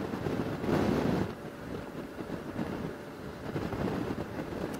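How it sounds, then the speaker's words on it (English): Strong wind roars and buffets the microphone steadily during a rainy ride on a Suzuki V-Strom 1050XT motorcycle, with a louder gust near the start. "Wind's blowing pretty good."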